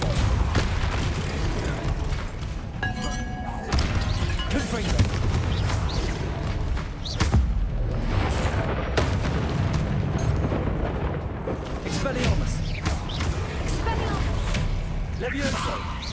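Booming blasts from the Bombarda spell in Hogwarts Legacy roll through a dense, continuous game soundscape, with a sharp impact near the middle and a voice talking over it.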